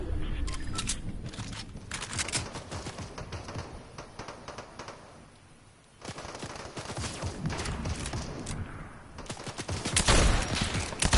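Enemies open fire in the Fortnite video game, producing sustained bursts of rapid gunshots with a brief lull midway before the shooting resumes, growing louder toward the end.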